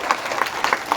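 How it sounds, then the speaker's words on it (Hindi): Scattered clapping from an audience at a seminar session, a handful of distinct claps spaced irregularly over a short moment, moderately close with no talk over it. "हाँ तालियां बजाने का मन करो तो बजा दो"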